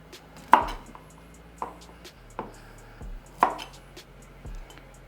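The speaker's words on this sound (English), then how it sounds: "cutting off the very end. And this just helps the brine penetrate a little bit" A kitchen knife trims the ends off fresh cucumbers for lacto-fermented dill pickles, several sharp close chops on a cutting board at uneven intervals, with no talk.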